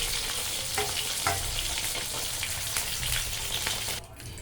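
Fish fries in hot oil with a steady, dense sizzle and crackle, loud and close, with occasional spatters and a brief stir before the sound drops off near the end.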